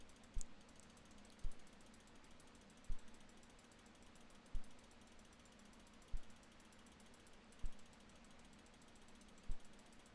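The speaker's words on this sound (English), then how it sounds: "there's a faint rattling noise coming from this tile" Faint, sparse rattling clicks come from a floor tile in a video game, spaced about every one to two seconds over a low steady background hum.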